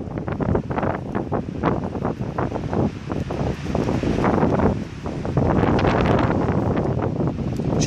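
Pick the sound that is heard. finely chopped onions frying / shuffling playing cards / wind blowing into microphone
wind blowing into microphone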